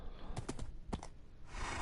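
A few hoof clops from a horse in Minecraft Bedrock on PS4, light and quick with short pauses between them, heard faintly against a quiet background.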